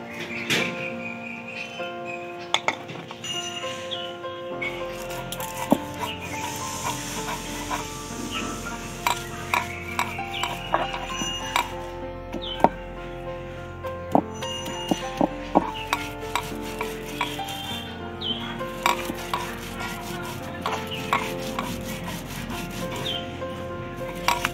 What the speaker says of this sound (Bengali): এবার আমি ভাজা চিংড়ি মাছগুলো বেটে নেব।